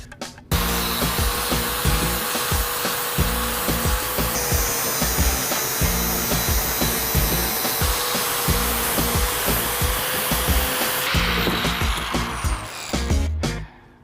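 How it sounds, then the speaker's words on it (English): Flap disc on an angle grinder working an engine flex plate for clearance during an LS engine swap, a loud continuous abrasive whine and rasp that runs steadily for most of the stretch, with a generator running alongside, no talking. "gonna hit it with the flap disc and create greatness out of butchery"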